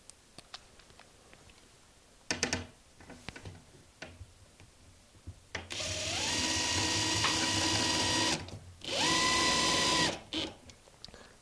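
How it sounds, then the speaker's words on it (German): Screws driven into the frame of an LED panel, a motor whir running steadily for a few seconds, pausing, then running again, with clicking ticks before it; no talk. "Und dann kann ich die anderen zwei Schrauben auch reinschrauben."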